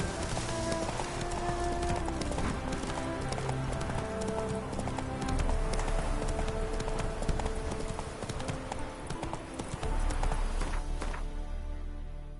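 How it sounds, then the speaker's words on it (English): Hooves of a horse clip-clop and gallop steadily across ground in a video game, loud and close with a rhythmic beat, a brief whinny and game music underneath. "Whoa there, Roach"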